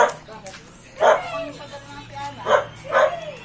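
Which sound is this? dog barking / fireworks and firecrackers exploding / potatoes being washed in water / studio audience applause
dog barking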